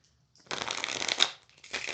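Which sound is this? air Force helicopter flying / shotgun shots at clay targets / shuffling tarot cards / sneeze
shuffling tarot cards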